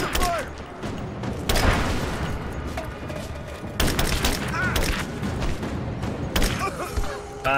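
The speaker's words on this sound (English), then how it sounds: "I'm under fire!" Gunfire in the video game Rise of the Tomb Raider comes as loud bursts of shots and booming impacts in a firefight, interspersed with game voices shouting.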